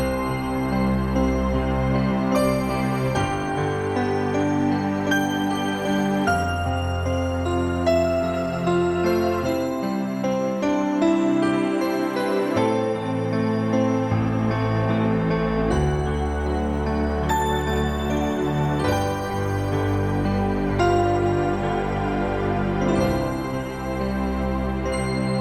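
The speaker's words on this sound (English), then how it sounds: "which is piano with kind of bells" Kawai MP7SE stage piano playing a layered piano-and-bells registration, a full sustained passage of chords and melody with bright bell overtones ringing over the piano, steady and loud throughout with no voices.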